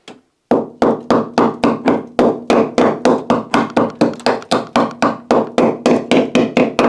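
Rapid metallic punching on a rusty spot of an Opel Kadett E body, a long, evenly spaced series of sharp close taps after a single opening knock, loud and without talk.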